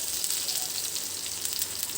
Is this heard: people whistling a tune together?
no